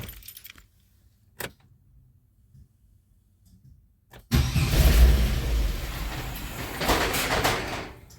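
A Grand Am GT with a swapped 3800 V6 and new coils and ignition module, put in gear and started: a few faint clicks, then the engine catches midway and runs loudly and roughly to the end, with no talking.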